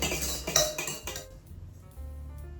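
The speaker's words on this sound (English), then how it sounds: "Whisk it by hand, because that's what he did too." Macaron meringue whisked by hand in a bowl gives quick metallic clinks and scraping for about a second. Then it drops to a faint, quieter stretch with no talking.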